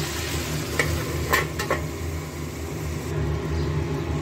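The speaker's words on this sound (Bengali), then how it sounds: "মশলার মধ্যে বরবটিটা দিয়ে নাড়িয়ে চাড়িয়ে এবার একটু ঢেকে হতে দেবো" Long beans being stirred through spice masala in a pan, giving a steady soft sizzle with a few scraping stirs of a spoon, close and continuous, no voices.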